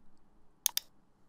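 Two quick, crisp clicks of a computer mouse, close and isolated in near silence, as a login button is pressed on a web page.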